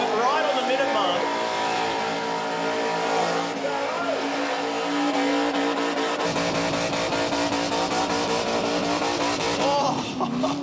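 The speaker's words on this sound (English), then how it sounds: "Tyres off it right on the minute mark." A car does a tyre-smoking burnout at the Summernats car festival, its engine screaming and tyres squealing continuously, loud and sustained, while a commentator talks over it.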